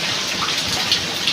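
Steady rain pours down as rainwater runs off a yard and across a road, a dense, even hiss of drops and flowing water with occasional brighter splashes and no voices.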